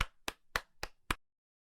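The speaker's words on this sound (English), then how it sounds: "A skeleton applauded politely from a nearby mausoleum." Five sharp claps in a slow, even rhythm, close and crisp, then silence.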